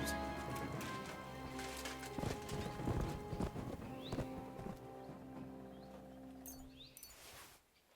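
Horse in the video game Kingdom Come: Deliverance 2, heard as steady hoof clip-clop with a whinny, close and fairly loud over game ambience and a few crashes; no speech.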